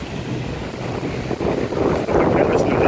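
Gusty wind rushes across the microphone in a continuous close roar during a road trip, swelling louder toward the end, with a brief spoken word under it.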